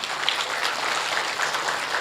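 Steady applause from a seated audience at an Indonesian health talk, a dense, even patter of many hands clapping at moderate level for the full two seconds, with no voices standing out.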